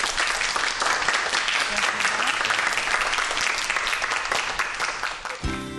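A lecture audience applauds a professor after a talk on light and nano-optics, dense steady clapping filling the room for several seconds before it trails off at the end.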